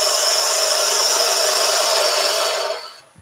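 A wood lathe turns a wooden baby toy while a spindle gouge refines its shape, giving a steady, loud whirring scrape with a high tonal whine that holds evenly for a few seconds before dropping off as the cut stops.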